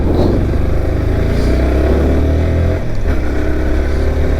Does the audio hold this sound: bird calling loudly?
no